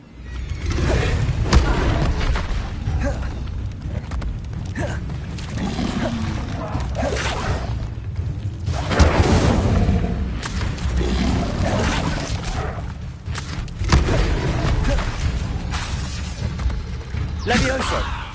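Incendio fire spells blasting in Hogwarts Legacy, repeated booming whooshes and thuds from spellcasting combat spread over a busy, steady background, with a voice shouting spell names between them.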